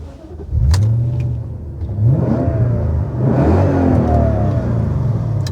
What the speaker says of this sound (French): quand on a la chance de posséder un V8, bah alors là, il faut écouter